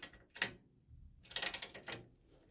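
A roughly 20-year-old Snap-on 3/8-inch drive ratchet clicks in a few short bursts of rapid ratcheting, close and fairly quiet, with pauses between strokes.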